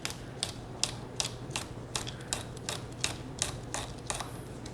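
A knife chops fresh golden cayenne peppers on a cutting board, landing about a dozen crisp, evenly spaced taps close by with no speech.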